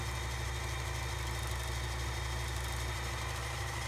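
A Brother Boutique 751 sewing machine winds a bobbin with a steady, even motor whir and hum that continues without a break.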